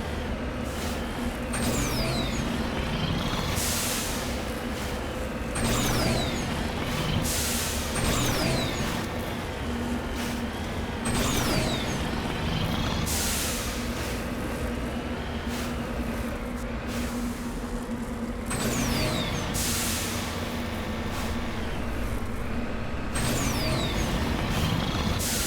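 Vehicle engine drone from a car climbing a mountain in Mass Effect Legendary Edition, a steady loud rumble with a sustained hum, repeated whooshing bursts and brief high whistles throughout, no speech.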